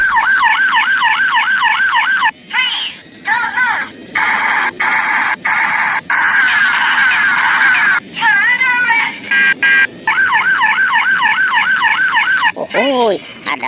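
A police patrol car siren wails loudly and near, a rapid rising-and-falling yelp with brief breaks and a final sweeping tone, passing along a street amid traffic noise.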